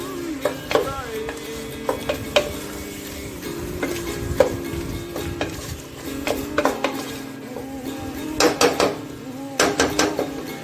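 Chopped coriander is sautéed with tomatoes in a pan for chicken biryani, a spatula clinking and scraping against the metal in irregular bursts, busier near the end, over a low sizzle with no talking.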